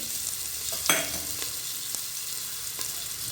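A paste of ginger, garlic and coconut fries in a pan for a green chickpea rice dish, hissing steadily while a spoon scrapes and stirs it in a few brief clinks and knocks, fairly close and with no voices.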